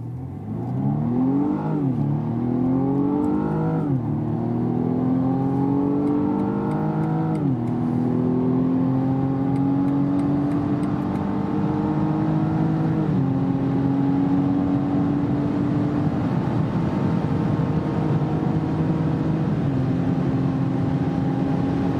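A 2019 BMW M135i xDrive (F40) accelerating onto the Autobahn, its engine rising in pitch through several gears with a brief dip at each upshift, then settling into a steady cruising drone with no talk.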